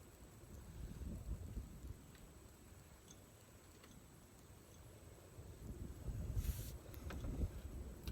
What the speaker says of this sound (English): If this wind could blow on, that'd be great.